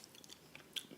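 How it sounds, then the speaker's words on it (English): Someone chewing loudly away from the microphone, giving a run of soft, quick wet chomps and small crunches, faint and slightly distant, with no speech. "I will, however, chew loudly away from the mic"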